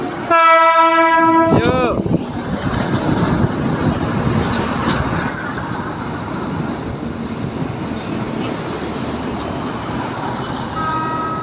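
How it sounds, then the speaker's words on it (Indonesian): A passenger train in Semarang, running again after flooding, sounds a loud, sustained horn up close, then rolls past with a steady heavy rumble and wheel clatter that continues to the end. "ini sepertinya ada kereta yang melaju dari arah timur sepertinya."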